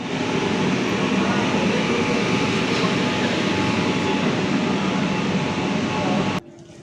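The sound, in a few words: metro train leaving underground station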